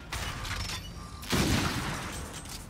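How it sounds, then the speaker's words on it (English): A black hole gun fires in Infinite Warfare Zombies, giving one broad, heavy whooshing blast partway through over a dense, noisy game backdrop. "Oh my god, it literally creates a black hole."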